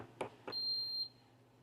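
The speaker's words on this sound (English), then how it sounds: "As it beeps and it gets ready, the machine should start pumping" Two quick clicks, then a single high-pitched electronic beep from a machine lasting about half a second, fairly close.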